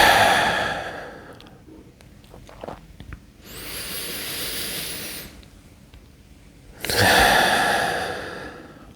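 One person breathes deeply as an energy breathing exercise: a long forceful exhale, a pause with small breaths, then a steady drawn-in inhale and another strong exhale, close and breathy.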